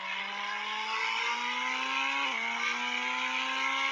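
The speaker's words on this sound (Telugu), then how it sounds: "ఇది కదా కారు అంటే గోల్డెన్ ల్యాంబోర్గిని" A golden Lamborghini's engine in a video game drones steadily at high revs, a smooth buzzing tone with a brief dip in pitch midway before climbing again, close and continuous with no voices.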